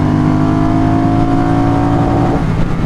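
Triumph Speedmaster motorcycle accelerating hard through the gears, a loud close engine note climbing steadily in pitch, then dropping briefly at a gear change near the end.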